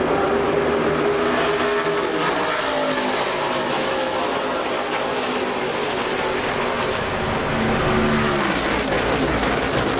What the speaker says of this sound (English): we're back to green flag racing here on lap number 29